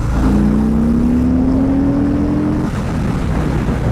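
A Harley-Davidson 1800cc motorcycle engine revved with the throttle, a loud, close, steady rumble whose pitch climbs smoothly through one long rev before settling back to a throaty idle.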